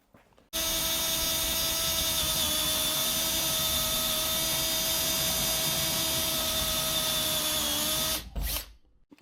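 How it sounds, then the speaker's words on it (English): A power drill drills a hole in a VW Caddy camper roof, whirring at a steady high pitch for several seconds, loud and close, then stops abruptly with a brief rattle. "we'll take that over to the roof now with the drill, and then we can drill the centre hole"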